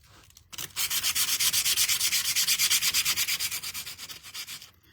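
Sandpaper rubbed by hand over a wooden door hanger in a steady run of quick back-and-forth strokes, close and loud, with a brief pause before the strokes begin, and no voices.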